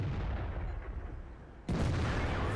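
A tank cannon shot fired at a T26E4 in World of Tanks: a single loud, sharp blast cuts in partway through, over a low rumbling battle ambience.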